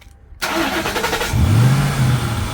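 A Mercury Marauder car engine is remote started: after a brief quiet moment the engine cranks and catches, then revs up with a rising roar before settling into a loud, close idle.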